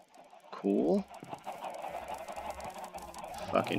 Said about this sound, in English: Fucking chickens.